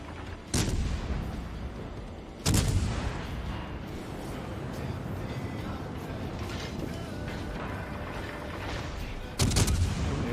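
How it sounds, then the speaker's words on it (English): A Baltimore cruiser in World of Warships fires HE shells: three loud, booming salvos, widely spaced, each a sharp crack with a rolling rumble. A steady low battle drone fills the gaps between them. "The Baltimore is firing HE."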